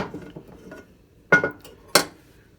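A rounded cast iron pan is set upside down on the stove with two sharp metallic clanks. A few lighter scrapes and knocks lead up to them, close and loud in a quiet kitchen.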